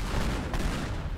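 A heavy, continuous rumbling blast fills the moment a cargo-hauling car gets destroyed in the physics sandbox game Teardown, with dense low-end crackle sustained loudly throughout.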